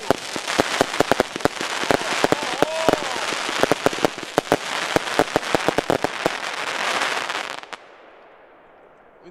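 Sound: fireworks shots, Pyroshow 2000-A Minerva

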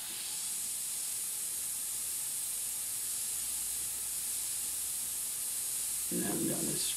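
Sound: aerosol spray paint spraying

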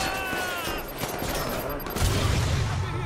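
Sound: gunfire in video game Watch Dogs 2

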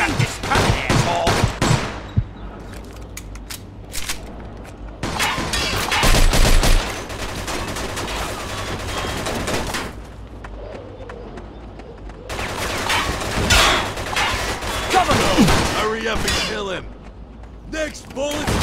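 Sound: gunfire in a shootout, from the video game Mafia 2

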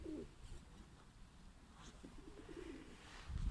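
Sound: pigeons cooing in coops

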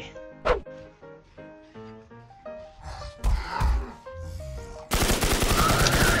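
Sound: pistol gunshots in Infestation The NewZ video game

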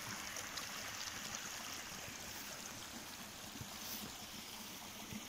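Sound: small waterfall feeding a pond

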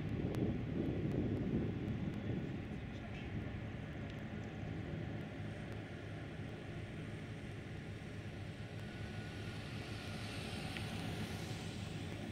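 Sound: Airbus A400M Atlas aircraft flying display

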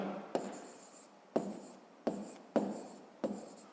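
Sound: writing on paper

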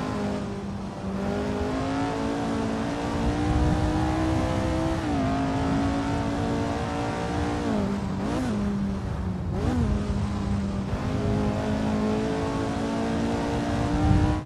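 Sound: Lotus Type 49 race car engine in Assetto Corsa video game

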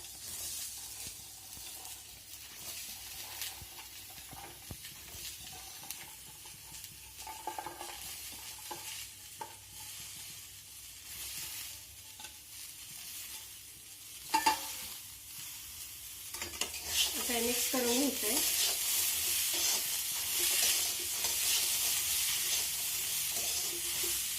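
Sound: cluster beans being stirred and sautéed in a pan

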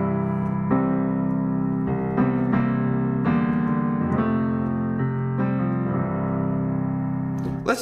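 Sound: jazzy piano version of Swing Low Sweet Chariot

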